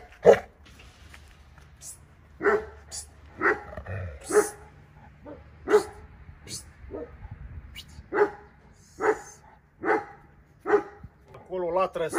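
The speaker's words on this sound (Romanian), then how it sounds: "O femelă cu lătrătură foarte groasă, mai rar găsește așa." A female Caucasian Shepherd dog barks deeply, about a dozen heavy, spaced single barks nearby, interrupted by occasional talk.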